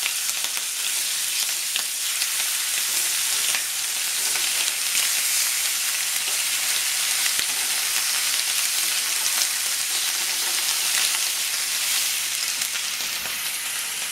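Slices of ham sizzle steadily in a hot frying pan for Eggs Benedict, a continuous bright crackle and hiss close up with no voices.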